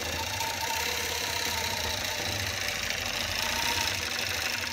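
A Gammill Elevate longarm quilting machine stitches an edge-to-edge pattern with a steady, fast mechanical whir and tapping that stays at an even loudness throughout, with no talking.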